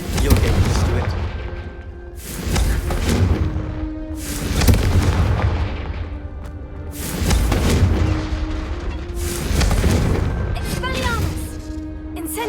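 Confringo blasting spells in Hogwarts Legacy go off as repeated heavy booming explosions, several loud blasts rising and fading in waves, with speech mixed in between.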